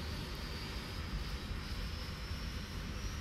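Aircraft engines running steadily in the X-Plane 10 flight simulator, a continuous broadband drone with a faint high whine, constant in level and free of speech throughout.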